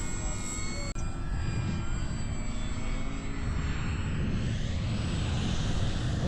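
An E-flite P-39 radio-controlled model airplane flies overhead, its motor giving a continuous, fairly loud whine with tonal harmonics that shifts slightly as the plane passes.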